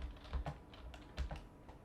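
Keys tapped on a computer keyboard while editing video on a computer, a few quick irregular clicks close up with two slightly heavier strokes, heard alone without talk.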